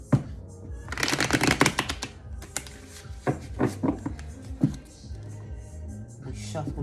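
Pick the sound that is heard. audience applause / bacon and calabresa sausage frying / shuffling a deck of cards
shuffling a deck of cards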